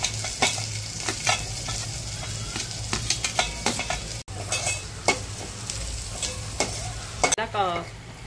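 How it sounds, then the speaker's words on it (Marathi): Onion with a paste of ginger, garlic, coriander and green chilli frying in a pan, a steady sizzle with frequent scraping stir strokes throughout. "ही आलं, लसूण, धने आणि हिरवी मिरचीची पेस्ट आहे ती घालूया. त्याच्यामध्ये थोडा कांदा घालून द्या."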